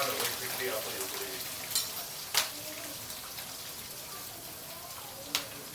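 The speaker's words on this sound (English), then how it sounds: "you can put in the prawn, but be very careful, it's going to splatter" Sambal prawns fry in hot oil over medium-high heat, a steady close sizzle broken by a few sharp pops and splatters, no one speaking.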